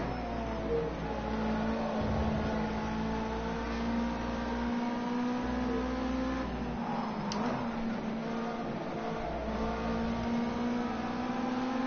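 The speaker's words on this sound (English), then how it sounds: "That's what I'm driving, Porsche 911 GT3 car." Engine of a Porsche 911 GT3 race car in the driving game Project Cars 2, a steady tonal drone that climbs and dips slightly in pitch as the car is driven, heard alone without talk.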